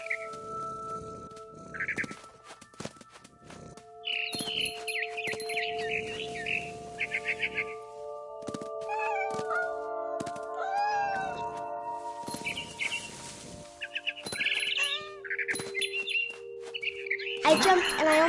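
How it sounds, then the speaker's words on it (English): A cat and a frightened bird in the game What Remains of Edith Finch: bursts of rapid chirps and tweets alternate with meows, over soft sustained game music tones. "And suddenly, I was a cat. I tried to be quiet, but the bird was really scared."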